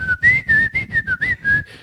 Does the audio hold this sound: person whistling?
yes